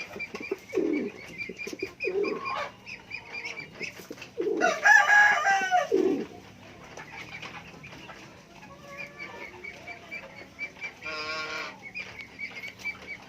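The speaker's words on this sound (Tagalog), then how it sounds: "Ito, ito na lang yung mga kalapati dito, mga kalapakpak." Pigeons coo repeatedly at close range in soft, throaty phrases, with a few louder bird calls in between and no one speaking.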